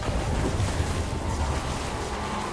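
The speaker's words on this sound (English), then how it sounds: "Water's rising." Rising water rushes steadily through a flooded area in the Spider-Man 2 game on PS5, a dense, continuous wash with a low rumble and no voices.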